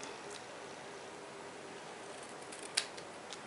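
Scissors snip a small overhanging piece of paper from a handmade paper box: one quiet, sharp close cut near the end, with a soft click just after, over a faint hushed background.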